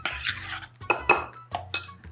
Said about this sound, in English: Mix this all together until it's well combined.